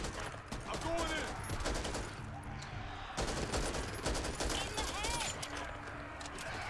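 Rapid automatic bursts from an AA-12 shotgun in Back 4 Blood, a dense, continuous fusillade of gunfire packed with sharp repeated blasts and game ambience, with a voice talking over the shooting.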